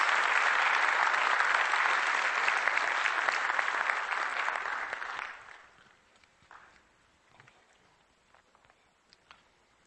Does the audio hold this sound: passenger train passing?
no